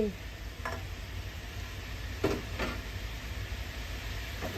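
Yakisoba noodles with cabbage stir-frying in a wok with a steady sizzle and a few scraping clatters of a utensil against the pan, close by.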